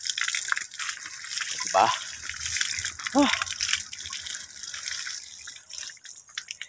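Water gushes in short bursts from a hand-operated pump well set near the sea, with splashing drips and ambient outdoor noise, while a person speaks briefly nearby.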